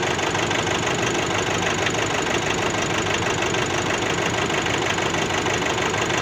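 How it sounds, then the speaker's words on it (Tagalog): A Nissan Navara DDTi diesel pickup engine idles roughly with a steady, close, loud knocking rumble that shakes on evenly throughout, with no voices over it. "sumandar na siya. Pero medyo alog pa rin yung yung makina"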